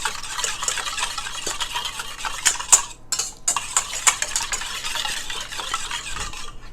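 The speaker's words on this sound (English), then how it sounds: "give this a good whisk so that the salt will dissolve into the acid, into the lemon juice" A whisk rattles briskly against a bowl, stirring salt into lemon juice for a chicken marinade, a busy run of close metallic clicks and scrapes with a brief pause midway and no talking.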